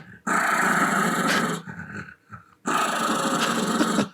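A creature in the Wolf Man film growls and snarls like a small dog, two loud, close, sustained bursts separated by a brief pause of breathy rumbling.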